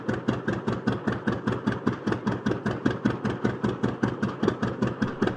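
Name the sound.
vintage water-cooled tractor engine running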